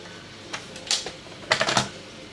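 A paper trimmer slices paper for a handmade notebook: two short, crisp cutting strokes close by, the second a quick run of rasping bursts, with quiet pauses around them and no talk.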